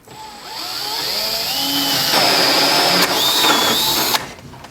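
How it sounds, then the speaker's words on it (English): A power drill whines steadily as a 1-inch hole saw grinds through a metal vehicle firewall, the pitch shifting under load before cutting off abruptly near the end. "using a 1-inch hole saw right there and drilling up just off the side"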